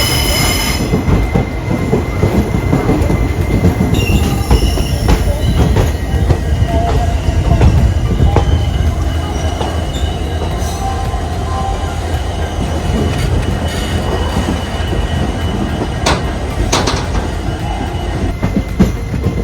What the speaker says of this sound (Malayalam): അപ്പോൾ നമ്മളിപ്പം നേത്രാവതി പാലം കടന്നുകൊണ്ടിരിക്കുകയാണ്.